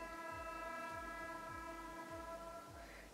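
Train horn honks repeatedly from a passing train, several long, blaring blasts heard at a distance and fairly faint, with no talk over them.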